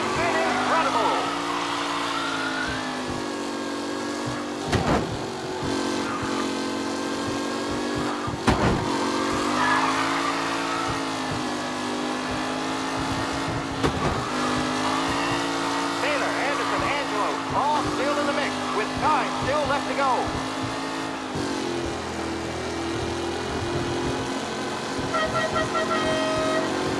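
Race cars from the Mafia video game roar around a track in a tight pack on the final lap, engines droning steadily with shifting pitch and occasional horn-like tones, under a commentator's continuous voice.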